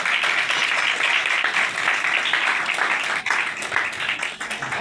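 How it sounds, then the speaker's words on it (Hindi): Loud, sustained applause from a church congregation during a sermon, many hands clapping in a dense continuous roar that thins slightly near the end. "जल्द खुदा के कलाम के लिए जोरदार"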